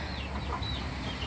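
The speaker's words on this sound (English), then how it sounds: "I'll just kind of show y'all our big chickens." Backyard flock of large chickens, including several roosters, kept outdoors, giving faint, soft clucks against a steady low background hum, with no talking.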